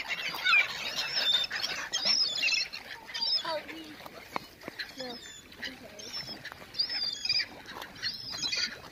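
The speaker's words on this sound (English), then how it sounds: "Ayan po sila, mga seagulls." Seagulls call repeatedly outdoors among ducks and swans, with high squealing cries that come and go over a breezy background at moderate distance, overlapping one another.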